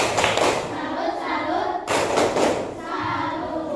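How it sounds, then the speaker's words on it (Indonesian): A classroom of students performs a tepuk salut clapping chant, rhythmic hand claps mixed with voices chanting together, loud and close for a few seconds. "Kita beri dulu tepuk salut untuk kelompok 4."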